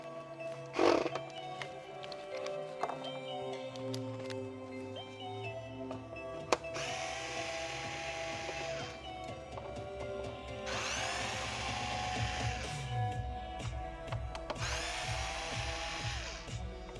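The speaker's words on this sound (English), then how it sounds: "What screwdriver is this? This is a Milwaukee." Milwaukee electric screwdriver whirring in a few sustained bursts of several seconds each, close and steady, with mechanical clicks and handling noise between runs.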